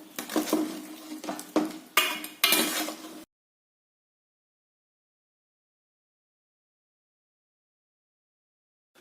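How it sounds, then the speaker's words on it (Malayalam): Boiled cauliflower scooped out of a pot of water, several clattering scrapes and clinks of a ladle against metal over about three seconds, then silence. "വെള്ളത്തിൽ നിന്ന് കോരിയെടുക്കാം"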